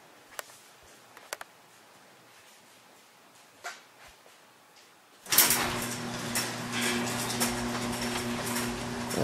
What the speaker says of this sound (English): Let's open up the garage door.